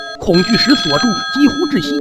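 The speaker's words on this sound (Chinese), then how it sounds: "电话又一次响起" An old telephone bell rings in steady sustained tones underneath a narrator's voice telling a ghost story, the ringing held throughout at moderate level.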